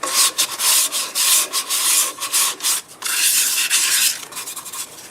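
Fine 400 grit sandpaper rubs lightly over a turned wooden piece in quick, steady back-and-forth strokes, a close, bright hiss that pulses with each pass and carries on without any voices.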